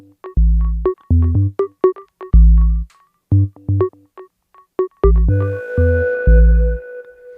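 Four layered synth instruments in different octaves play a choppy, rhythmic pattern over deep sub bass pulses, several notes stacked in different registers, loud and clean.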